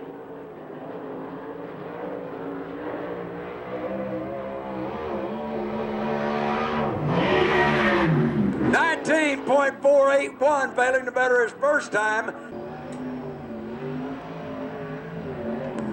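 USAC/CRA sprint car engines roar at Manzanita Speedway during qualifying, one car's howl building loudly as it nears and then revving in sharp bursts as it passes, while an announcer talks over the track noise.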